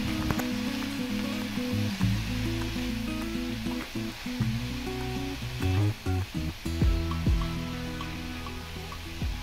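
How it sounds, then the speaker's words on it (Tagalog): Vegetables for homemade pancit canton are stirred in a hot pan. Close, irregular scraping and clanking knocks sound over a constant sizzle. "Haluin lang natin mabuti yung mga gulay para hindi ma-overcook."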